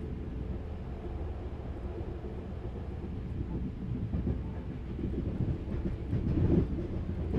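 Train running along rails with a steady low rumble and faint rhythmic clatter, continuous and fairly loud, swelling slightly toward the end with no voices.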